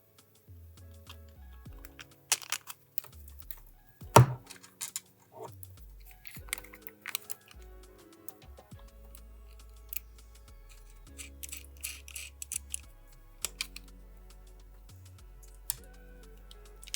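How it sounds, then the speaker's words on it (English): Small clicks, ticks and taps come from fastening a round servo horn with M3 bolts and nuts, with irregular close metallic contacts, scattered sharp snaps and light handling noise and no talk. "I'm going to fasten it to, fasten a round horn to it using the M3 bolts and nuts"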